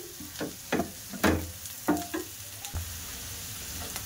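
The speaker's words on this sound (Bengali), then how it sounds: "তো মশলাটা আমার ভাজা করা হয়ে গেছে" Soft frying sizzle of cumin and chili powder in a pan punctuated by several scraping, stirring strokes, close by and fairly quiet.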